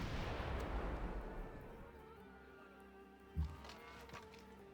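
Artillery fire in a video game: a loud rumbling boom at the start decaying into a long roll, then a single sharp thud later with faint distant bangs.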